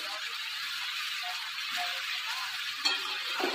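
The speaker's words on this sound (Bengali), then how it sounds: "ভালো করে নাড়াচাড়া করে নেবে।" Food being stirred in a pan after salt and turmeric are added, a steady soft sizzle with scraping and stirring, close and continuous, with a couple of louder clinks near the end.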